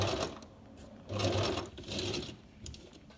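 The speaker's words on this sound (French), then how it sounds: "Je fais un point d'arrêt et je vais coudre tout le long" A sewing machine stitches along the edge of fabric pieces for a hair scrunchie. Its steady motor whir runs in two longer bursts with a quieter pause between them, close and fairly loud, with no speech.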